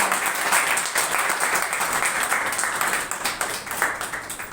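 A church congregation claps loudly in praise during a Hindi-language preaching service, a dense, steady wash of many hands filling the whole stretch with no speech over it.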